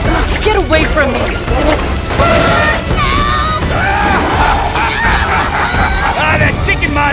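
Squawking chicken monster in the video game Vicious Circle, loud honking, goose-like cries and clucks over crashes and thwacks, with game voices mixed in throughout.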